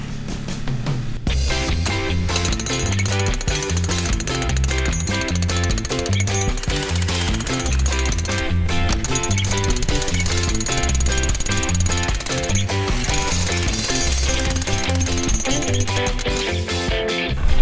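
A generator-powered jackhammer breaking a gold ore vein pounds continuously and loudly, its rapid rhythmic hammering steady throughout with a motor droning underneath.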